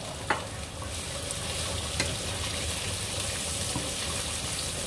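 Shallots, galangal and ginger fry in a pan with a dense, steady sizzle up close, marked by a few sharp clicks of a utensil against the pan and no voices.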